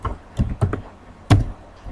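Keys pressed on a computer keyboard for a Ctrl A select-all shortcut in Excel, a few sharp close clicks in quick clusters, then a final louder tap.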